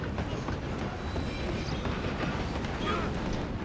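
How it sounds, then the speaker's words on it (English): Steam-era train rolling along the tracks in Red Dead Redemption 2, a dense continuous rumble and rattle of wheels and cars filling the scene at close range. "I'm gonna ride ahead and stop the train"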